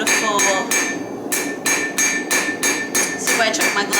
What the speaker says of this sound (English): if I overlap all my little hammer blows nicely